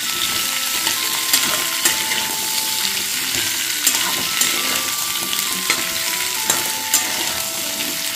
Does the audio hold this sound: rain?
no